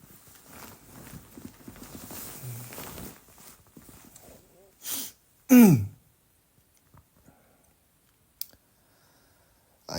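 A singer, on a casual live stream, gives one or two sharp, close coughs after a stretch of soft, low talk, followed by near silence and a few small clicks.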